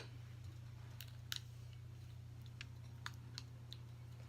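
Close, quiet snips of a poly gel nail being trimmed come a few at a time, each a crisp brief click over a steady low hum.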